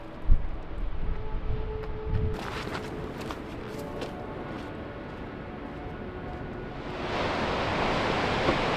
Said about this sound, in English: The ocean continues its relentless assault on the coast as I make my way to Trail's End.